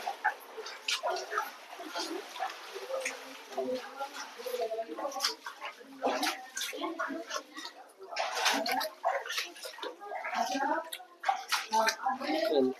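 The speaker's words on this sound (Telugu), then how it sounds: "వాటర్ ఎక్కడ నుండి వస్తున్నాయో అర్థమే కావడం లేదు." Water flowing and gurgling inside a cave at a holy hill site, a steady splashing wash with bubbling bursts throughout and a voice talking over it.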